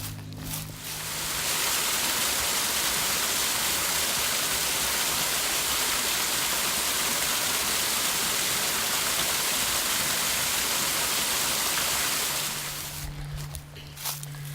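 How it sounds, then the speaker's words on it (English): A waterfall on the Walls of Jericho trail roars as a loud, steady broadband rush that swells in after the first second and holds for about twelve seconds before easing away, with no voices. "So cool to get to see the waterfall back there."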